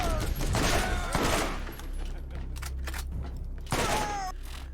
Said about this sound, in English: I think sound effects need to go down because I think gunshots are just straight up way too loud.